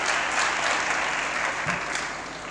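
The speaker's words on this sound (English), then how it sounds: "But we could have even more bigger round of applause." Brief burst of applause from an audience at a FICCI FLO Indore event, steady dense clapping that eases slightly toward the end.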